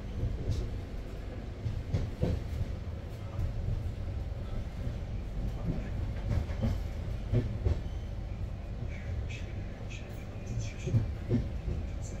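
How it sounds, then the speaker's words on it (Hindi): Indian passenger train rolling along the track near Mumbai, a continuous low rumble with faint rhythmic clickety-clack of wheels over rail joints, steady and moderately close throughout. "खाली ट्रेन निकला हुआ है आपको इसमें।"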